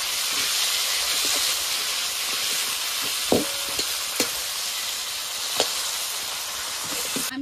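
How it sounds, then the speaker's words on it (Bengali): Fish heads sizzle and hiss steadily in hot oil in a pan while a spatula breaks them up, with several sharp scraping clacks against the pan over the continuous frying, no voices. "মাছের মাথাগুলো এপিট ওপিট করে ভেজে নিয়েছি, এবার খুন্তি দিয়ে ভেঙে ভেজে নেব।"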